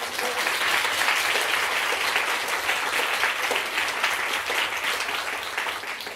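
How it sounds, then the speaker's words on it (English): An audience applauds an honored guest, a renewable energy and investment banking specialist, at a social entrepreneurship event. The clapping is steady and dense and holds evenly for the whole stretch before easing slightly at the end. "Can we give our honored guest a round of applause?"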